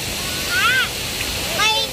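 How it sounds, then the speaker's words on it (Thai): Steady rushing roar of Erawan waterfall, close and constant, with voices calling out over it. "ไปตรงน้ำตกนะฮะไปตรงน้ำตกไป"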